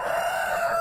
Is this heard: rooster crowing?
yes